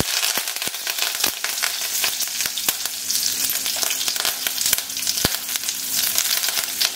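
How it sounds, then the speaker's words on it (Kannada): Mustard seeds and curry leaves crackle and splutter in hot oil, with a continuous sizzle and many sharp, irregular pops close by, no voices. "ಸಾಸಿವೆ ಚೆನ್ನಾಗಿ ಸಿಟ್ಲಿದ್ಮೇಲೆ ಕರಿಬೇವು ಸೊಪ್ಪು ಹಾಕಿ."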